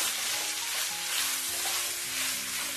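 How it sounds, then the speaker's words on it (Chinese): Green beans with minced pork, sauce and red pepper stir-fry in a wok over high heat, giving a loud, steady sizzle with a little clatter of stirring and no talk. "然后大火给它翻炒均匀"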